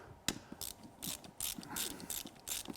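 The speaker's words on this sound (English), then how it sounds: "on this pump you can only get on one of them with a ratchet wrench" A ratchet wrench clicks in short, close bursts as it loosens bolts on the lift pump of a Mercedes W115 diesel, with the pawl's rapid ticks coming in uneven strokes.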